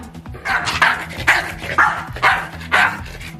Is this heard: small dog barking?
yes